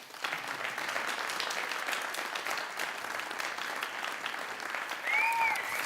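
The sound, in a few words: audience applause at a speech competition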